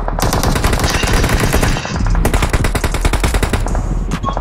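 Sustained rapid automatic gunfire from another squad in PUBG, loud and dense, with bursts of rattling shots and a brief pause midway before the firing resumes.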